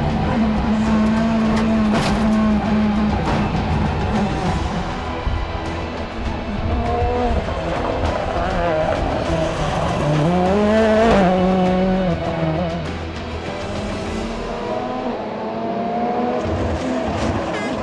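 A Ford Fiesta rally car races on a stage of the Lyon-Charbonnière rally, its engine revving hard and shifting through gears, close and loud, with tyre noise and pitch sweeps as it accelerates and brakes.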